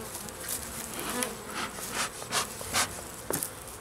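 Honey bees buzzing around an open cathedral hive during an inspection after a little smoke, a steady low drone with several brief louder swells as bees fly close, heard alone without talk.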